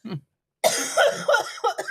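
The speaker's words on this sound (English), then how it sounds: "See, we're still freaking coughing." A brief cough, a pause, then a burst of harsh, raspy coughing and throat clearing that continues in uneven fits.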